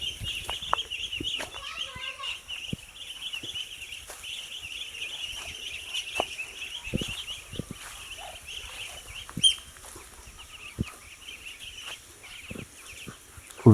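Chinese ducks and their ducklings, chicks of about 400–500 g, call on a farm in Muktagacha, Mymensingh, with a steady stream of high, thin peeping and occasional louder squawks close by.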